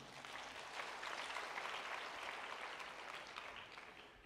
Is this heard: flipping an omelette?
no